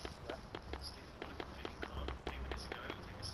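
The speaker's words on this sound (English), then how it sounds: "Then you could be hearing footsteps in the overpass" Footsteps in Call of Duty Warzone, a quick irregular run of crisp close steps over a low background hum.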